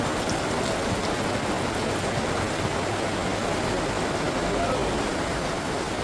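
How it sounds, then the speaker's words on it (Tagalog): Heavy rain pouring steadily in a dense, even hiss that fills the whole stretch without pause, loud and close. "Ang lakas ng ulan."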